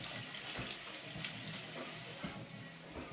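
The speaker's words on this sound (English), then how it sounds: "I'll wash my hands real good." Tap water runs steadily for hand washing in a home kitchen, a broad close hiss with faint sizzling from food on a grill nearby.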